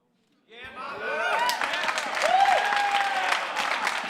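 Crowd at a StarCraft 2 WCS America semifinal tournament in California bursts into loud, sustained applause and cheering that builds and keeps going, with whoops and whistles rising over the clapping.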